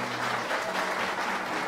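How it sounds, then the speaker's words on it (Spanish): Brief, faint applause from an audience at a Christian family movement gathering, soft scattered clapping heard at a distance for under two seconds. "hace falta un toque de aplauso para que el artista venga"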